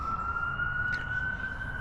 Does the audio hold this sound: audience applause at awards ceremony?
no